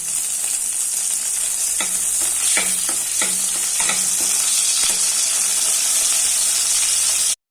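Whole dried red chilies frying in oil for a Bengali banana-flower dish, a loud steady hiss with a run of quick spatula scrapes and stirs in the middle, close, no talking.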